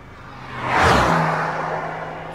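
A Porsche passes by on a badly damaged road, its sound swelling to a whooshing peak and then fading away.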